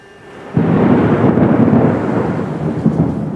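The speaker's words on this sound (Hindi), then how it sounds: "तूफान आने वाला है, इसीलिए मेल वापस अपने बिल में चला जाता है।" An outdoor thunderstorm breaks in with a sudden loud thunder roll that swells into a sustained, heavy rumble over a dense hiss of pouring rain.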